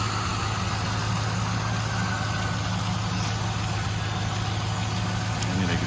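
A 1999 Pontiac Trans Am 30th Anniversary edition with a K&N filter idles smoothly and steadily, a constant low rumble close by with no talking over it.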